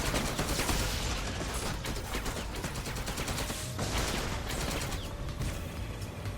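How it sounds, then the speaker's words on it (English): In the kart-combat game Obliteracers, cannon fire crackles in a dense, continuous barrage of rapid shots over busy game noise, steady and loud throughout. "I'm getting shot at with a cannon over there."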